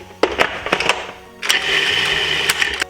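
Food processor pulsing seasoning for Chinese fried chicken, in short whirring bursts: a few quick pulses, then a longer steady buzz with clicks, close and loud.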